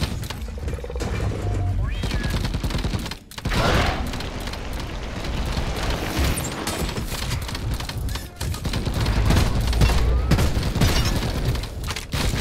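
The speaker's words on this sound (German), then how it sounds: "Pistole macht tatsächlich nicht so viel Schaden." Pistol fire and explosive booms in the dwarf mining game Deep Rock Galactic, loud rapid shots and blasts layered densely over one another, with someone talking over the action.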